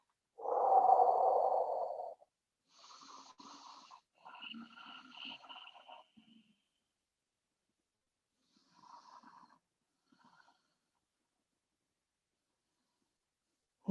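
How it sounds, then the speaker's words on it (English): Slow breathing held in a yoga forward fold, one loud close exhale followed by several softer breaths with long quiet gaps between them. "we're going to pause for a few breaths here"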